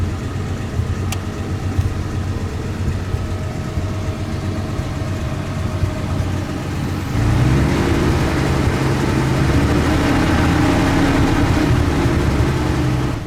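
A classic Humber Super Snipe car engine idles steadily with a low, even rumble, growing slightly louder and rougher partway through as revs rise.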